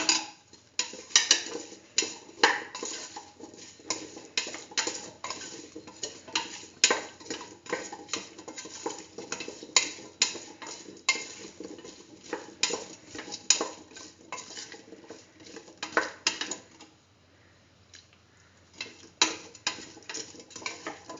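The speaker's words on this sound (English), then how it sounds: "Put in salt to taste. Thoroughly mix." Spoon stirring split chickpea, chayote and rice in a metal pot, a steady run of close, irregular scraping clinks and taps against the pot for most of the time, briefly pausing near the end.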